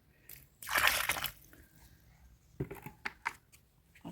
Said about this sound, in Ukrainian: І зараз ми її гарнесенько полємо водичкою.